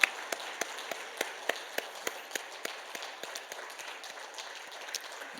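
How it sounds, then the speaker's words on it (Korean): Rhythmic clapping rings out at a Wednesday night dedication worship service at a church, sharp evenly spaced claps in a steady beat, fairly soft and reverberant, fading into a looser patter near the end. "박수하면서 격려하고 하나님께 영광 돌리도록 하겠습니다"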